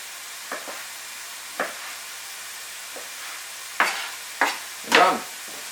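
Bacon in a hot pan gives a faint, low background sizzle, broken by several short bursts of sharper crackling and spitting that grow louder toward the end, with no talk.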